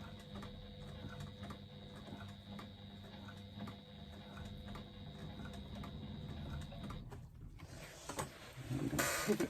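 A sewing machine runs steadily, its needle ticking out a rapid, even rhythm while stitching along a bag strap connector, then stops and gives way to brief handling noise.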